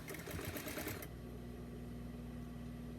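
A sewing machine runs a quick, fast burst of stitches along a doll bodysuit seam, then stops, leaving a low steady motor hum.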